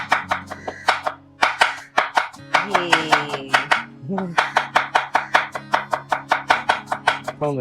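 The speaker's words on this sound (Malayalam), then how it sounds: "ഒരു സവാള കണ്ണടച്ചോണ്ട് അരിയാൻ പറ്റുമോ?" A knife chops an onion quickly and rhythmically on a board, many sharp close taps in a steady run with a brief pause partway through.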